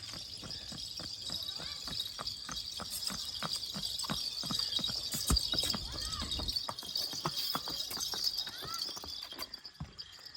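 A ridden mare's hooves clip-clop steadily with irregular, sharp, close thuds, while faint birds chirp in the background.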